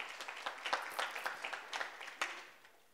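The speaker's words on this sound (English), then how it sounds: "Give yourselves a round of applause." Applause at a book launch audience: distinct, scattered hand claps at moderate volume forming a short round that thins out and fades away toward the end.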